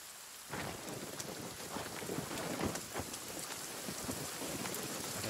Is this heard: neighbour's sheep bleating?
no